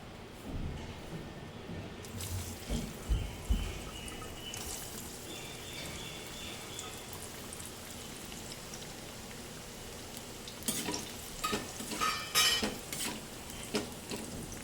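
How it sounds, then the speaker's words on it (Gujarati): Carrots frying in hot oil in a home kitchen, a steady soft sizzle and crackle throughout with occasional utensil clinks and stirring scrapes, moderately quiet and close. "એવી રીતે આપણે ગાજરને પણ તળી લઈશું"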